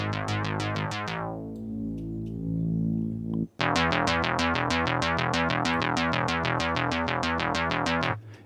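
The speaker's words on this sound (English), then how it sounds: "It's more of an edgy saw type sound" A bright, buzzy sawtooth synth bass plays a fast repeating pattern that jumps between octaves, with a short pause partway through, loud and continuous.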